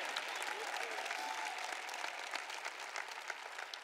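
Sustained applause from a large audience at a church gathering, a dense steady wash of clapping heard from a distance that fills the whole moment without pause.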